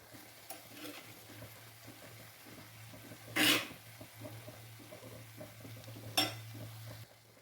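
Clams stirred into a frying masala in a pan, with a low steady sizzle under two short, loud scraping bursts of the spoon against the pan, one after the other.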